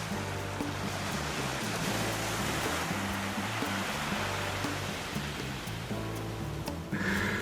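Ocean waves at Little Harbor Beach on Catalina Island form a steady, wide roar of surf that never lets up, with low droning tones running underneath and no one talking.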